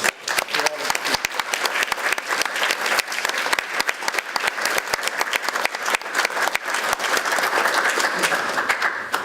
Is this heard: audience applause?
yes